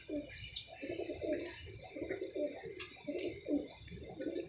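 Pigeons coo in a steady run of soft, repeated throaty calls, close by and moderately quiet, with faint chirps above them.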